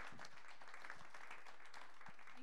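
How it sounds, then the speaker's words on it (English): Faint, scattered audience clapping after a health care purchaser panel, soft and distant with a few individual claps standing out from the quiet room. "You're already clapping."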